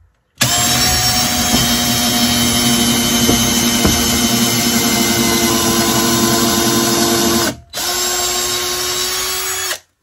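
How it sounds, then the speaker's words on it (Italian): A Teccpo PHD100D 18V cordless drill on speed 1 bores a hole with an 8 mm wood bit. Its loud, steady whine runs for about seven seconds, stops briefly, then resumes for another two seconds. "Iniziamo subito facendo un foro con una punta da 8 mm per legno"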